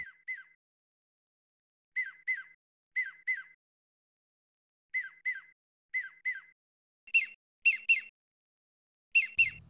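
Short whistled chirps come in quick pairs and triplets separated by pauses, a shrill imitation of birdsong heard up close against silence.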